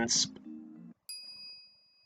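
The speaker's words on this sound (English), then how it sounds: "The phone wave, name subject to change, rings" A phone wave device in the Steins;Gate game rings with a bright electronic ding-dong chime, then a sustained tonal hum and a second clear metallic ring that decays slowly.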